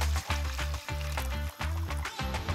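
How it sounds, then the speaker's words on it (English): Fish soup base tipped into a hot cast iron pan, giving a loud, close sizzle broken by rhythmic pulses and brief dips, with no speech. "So tip your base back into the cast iron"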